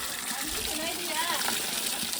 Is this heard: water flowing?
yes